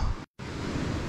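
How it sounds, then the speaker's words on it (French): Waves wash onto the beach at Mronabéja as a dense, steady roar of surf and wind, broken by a short dropout near the start. "ici on a la plage"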